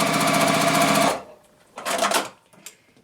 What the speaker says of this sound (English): I'm just going to stitch on that drawn line